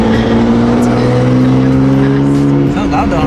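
A loud BMW M3 with a manual gearbox is driven hard from close range. Its engine holds a steady droning tone, then the pitch jumps and wavers near the end as the revs shift.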